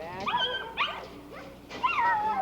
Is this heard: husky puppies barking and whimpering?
yes